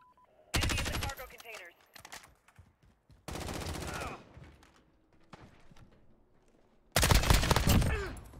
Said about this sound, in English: Nobody knows where I'm shooting from.